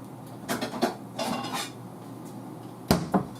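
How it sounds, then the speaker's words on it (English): Plate picked up in a home kitchen while making hamburger buns, ceramic clinks and scrapes of dishes and cutlery, a few brief knocks spread out, a louder clatter near the end, fairly quiet with no talking. "Let me grab myself a plate"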